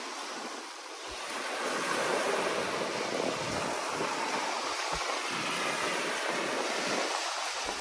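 Ocean waves carrying garbage wash ashore on a Manila Bay beach, a loud, continuous surf roar mixed with gusty wind buffeting the microphone, with no talk.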